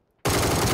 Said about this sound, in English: Well, multiple gunshots.